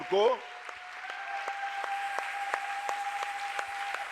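A church congregation applauds in a brief burst of steady clapping, while a voice and a sustained tone from the service carry on over the hands.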